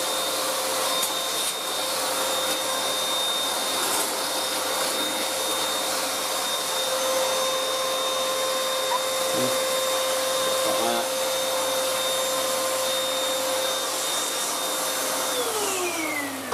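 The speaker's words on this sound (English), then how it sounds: "This vacuum cleaner is only for dry use." A Beaumark BM222 TinyTurbo handheld vacuum cleaner runs steadily at close range with a loud, continuous motor whine and airflow hiss, holding an even drone before the pitch drops as it powers down near the end.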